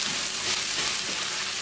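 Spiced filling mixture with black pepper and pepper paste sizzles in a pan while being stirred, a steady close frying hiss with faint scraping under it.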